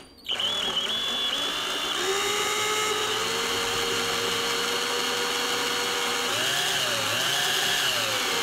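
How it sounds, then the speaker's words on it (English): A power drill with a 3/32 bit bores into a guitar fretboard, its high whine running loud and steady close by with slight pitch shifts as the bit cuts through the wood. "And I'm gonna drill at the start in reverse."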